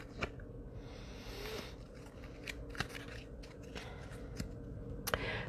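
Angel Therapy Oracle cards being shuffled, soft papery riffles and light flicks close by in a quiet room, faint and irregular with no talk.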